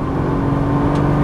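A Nissan GT-R on a Las Vegas race track pulls hard after an upshift, its engine note a steady, loud, close drone that holds for about a second.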